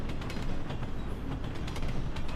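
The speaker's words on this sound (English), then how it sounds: "you get off the train and observe it moving across in front of you" A train moving past a stationary listener, its wheels giving a faint, steady rhythmic clatter over the tracks with no voices.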